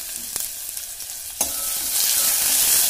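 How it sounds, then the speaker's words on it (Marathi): Sliced onion frying in oil for a Maharashtrian mutton dish: a quiet first stretch of light crackle with a few soft clicks gives way to a sharp knock, then a loud, steady broadband sizzle that builds and holds to the end. "कांदा चांगला लालसर होईपर्यंत भाजायचा"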